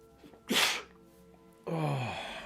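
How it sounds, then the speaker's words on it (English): A single loud, sharp sneeze bursts out close by, preceded by a brief quiet breath and followed by a drawn-out vocal exhale. "need to sneeze."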